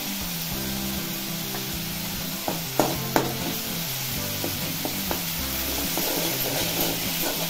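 Spices and turmeric stirred in hot oil in a pan, a steady close sizzle with a few spoon clicks and scrapes, accompanied by low background music and no talking.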